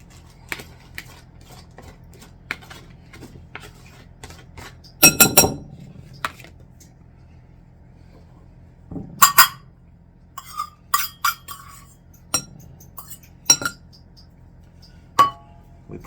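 A fork clinks and scrapes against a bowl while butter is worked in for homemade biscuits, giving sparse, sharp metallic taps in short clusters over a low steady hum.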